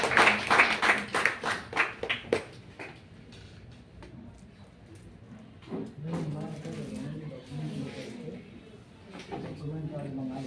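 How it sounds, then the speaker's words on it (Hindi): An audience at an honouring ceremony claps in a brief burst of rhythmic applause that fades after a few seconds, followed by someone speaking over quiet room sound. "तालियों के साथ।"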